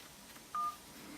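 A single short keypad tone sounds as the 1 key is pressed on a phone during automated activation, a clean beep lasting under a fifth of a second against quiet background hiss.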